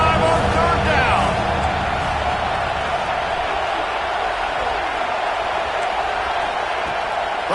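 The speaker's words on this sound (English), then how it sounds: "The Buckeye crowd alive on third down" A home Ohio State Buckeyes football stadium crowd roars on a third down, a dense, loud sustained wash of cheering and noise that swells early and holds steadily throughout.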